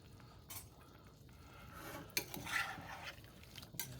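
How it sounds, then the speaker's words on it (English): Fried ribs are stirred in a pan for a Sunday dinner, with quiet scraping and rubbing of a utensil and a few soft metallic clinks in a calm kitchen. "Just gonna stir that up."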